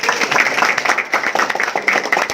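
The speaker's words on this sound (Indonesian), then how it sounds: "Tepuk tangan dulu untuk Glance" An audience applauds a Glance skincare product launch, a short burst of dense, steady clapping from a crowd close by, lasting a couple of seconds.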